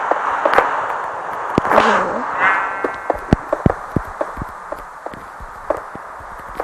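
A burst of rumbling blast noise followed by a string of sharp cracks and pops, loud and irregular, from explosions in Minecraft.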